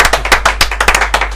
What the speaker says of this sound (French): Bravo Loïc, on va t'applaudir d'ailleurs.